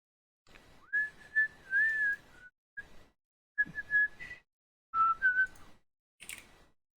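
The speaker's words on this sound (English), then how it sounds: "Sorry if the whistling is annoying." A person whistles a wandering tune in several short phrases separated by pauses, close and clear with no talking.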